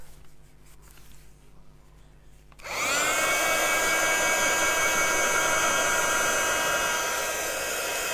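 A heat tool switches on abruptly after a quiet moment to dry Brusho ink on scrapbooking paper, then holds a steady, loud whirring hiss through to the end.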